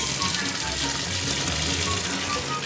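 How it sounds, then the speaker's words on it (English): Boiled pasta water gushes into a kitchen sink as the pasta is drained through a draining gadget, a loud, steady rushing pour close by, with a voice talking faintly under it. "So I'm about to drain the pasta."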